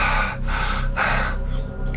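A voice imitates rhythmic panting with three or four breathy, gasping pulses in an even rhythm, close and fairly loud, with a low hum underneath.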